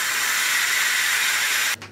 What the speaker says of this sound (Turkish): Düdüklü tencerenin havasını çıkardım.